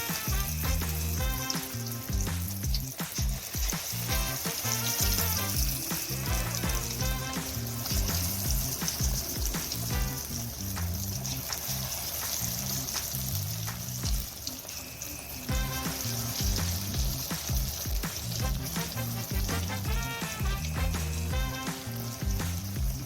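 Chicken kebabs fry in hot oil in a home kitchen, giving a continuous loud sizzle and crackle with occasional bursts of bubbling.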